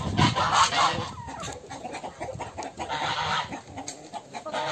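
A fluffy Brahma hen clucks softly in a farmyard. The close, low clucks come in uneven bursts over scattered background noise.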